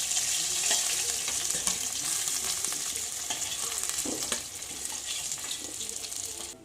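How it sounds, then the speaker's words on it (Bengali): Katla fish pieces fry loudly in oil in a wok, a dense continuous sizzle and crackle close up, easing slightly toward the end. "মাছগুলো আমার ভাজা হয়ে গেছে, এবার আমি তুলে নেব কড়া থেকে"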